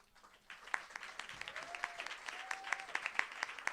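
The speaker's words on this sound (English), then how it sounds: "please give them another big round of applause" Scattered applause from an audience after a student cello performance at a museum showcase, quiet and sparse at first then swelling into steady clapping with sharp individual claps and faint cheers.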